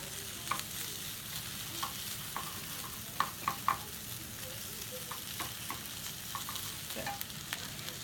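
Butter browns and sizzles in a pan for gumbo, a steady frying hiss with scattered stirring scrapes and a few louder clatters, without any voices.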